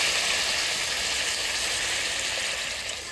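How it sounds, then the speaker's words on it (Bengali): Water is poured into hot frying masala for pea dal, setting off a loud, dense sizzle and hiss that fills the moment and eases off slightly toward the end. "হয়ে গেছে, এবার আমি জল দিয়ে দেবো।"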